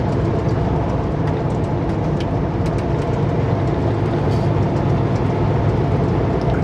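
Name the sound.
coal train passing in the distance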